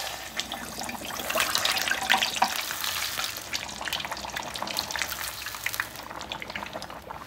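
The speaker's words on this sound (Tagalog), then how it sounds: "Deep fried na po natin." Food drops into very hot oil for deep frying, giving a continuous crackling sizzle with dense pops that swells early, then settles into a steady, close hiss.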